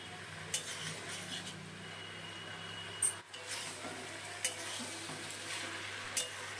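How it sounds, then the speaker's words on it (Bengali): Spices, radish, beans and mustard greens sizzle and fry in a pan while a utensil stirs and scrapes at intervals, with occasional clinks of metal. "মশলাগুলো ভালো করে সবজি আর শাকের সাথে কষিয়ে নিয়েছি"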